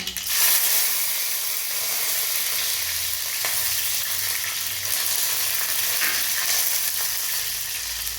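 Curry leaves hitting hot oil in a mustard-seed tempering for dhokla, a steady, loud frying sizzle with a few sharper crackles and clicks of a utensil, close up, no voices.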